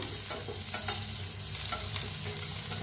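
Long-sliced onion sizzles and fries in a kadhai while being stirred, a steady close crackle with soft scraping strokes and no talk.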